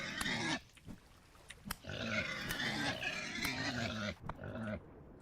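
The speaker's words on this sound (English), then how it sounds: "Oh, that pig startled me." A pig in the video game Vintage Story gives a run of close, loud grunts and snorts, with a short burst first, a long busy stretch of rough squealing grunts, then a few final snorts.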